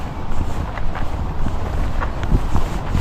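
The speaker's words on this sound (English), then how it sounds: "So windy today." Strong, cold wind buffets the microphone on a rainy riverbank along the Feather River in California, a steady low roar with gusty swells that runs throughout, loud and close, with no talking.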